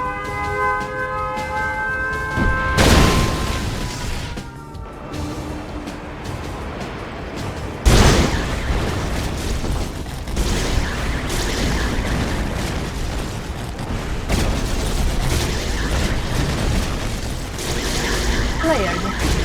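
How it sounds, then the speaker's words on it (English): Explosions thunder in the Command & Conquer: Yuri's Revenge strategy game: a loud blast at about three seconds, a second sharp detonation near eight seconds, then dense rumbling booms. Game announcer voices and tones play between them. "Warning, nuclear missile launched."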